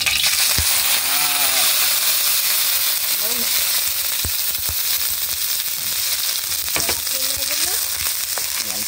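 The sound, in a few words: ground meat frying in oil for ginisang sayote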